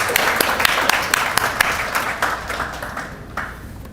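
Applause for graduates at a virtual promotion ceremony, a steady patter of clapping from a few people that thins and fades over four seconds, with some talk faintly underneath.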